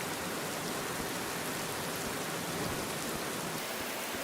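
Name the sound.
rain falling in the video game Sapiens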